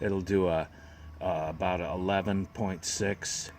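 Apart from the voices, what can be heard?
None of the usual background noises is heard.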